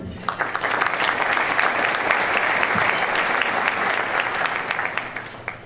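An audience at a county address event claps for its business sponsors, with sustained full-room applause that swells and then gradually tapers off.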